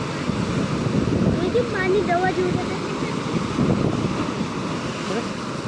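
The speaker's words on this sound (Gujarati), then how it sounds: "મોટો મોજો આવે છે, મોટો મોજો આવે" Big sea waves roar and crash in a steady, loud wash of surf at a seashore, with wind rushing over the microphone and a voice faintly heard.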